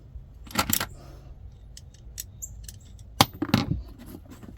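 Screws being started by hand while fitting a support strap to an LTV door: a few short, close metallic clicks and scrapes in two brief clusters, separated by quiet stretches.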